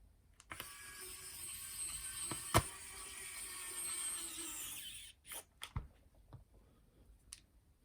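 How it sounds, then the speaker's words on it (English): Small screws being driven back into a Sony WM-FS397 Walkman cassette player, heard as a few close, faint clicks and scraping ticks from a small screwdriver against a dull steady background. "then we're gonna put these screws back in place."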